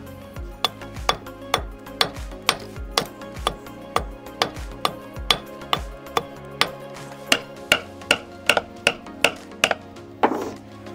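A sledgehammer strikes something over and over, knocking it off. The impacts come as a steady run of about two dozen sharp, loud blows, evenly spaced and close by, with ringing metallic overtones and no talking.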